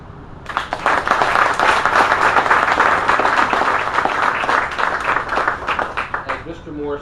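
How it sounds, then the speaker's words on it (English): A crowd gathered for the opening of the new Sycolin Road overpass breaks into steady, dense applause that builds quickly, holds for several seconds, then thins toward the end, with a voice speaking underneath. "I'd like to give them a round of applause."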